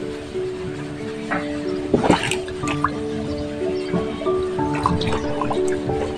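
A garden lily pond is filled with water from a hose while it is being cleaned; irregular drips, splashes and trickling are heard up close, with a faint steady tonal hum behind them.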